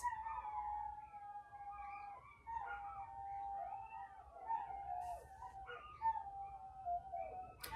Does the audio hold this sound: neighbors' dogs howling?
yes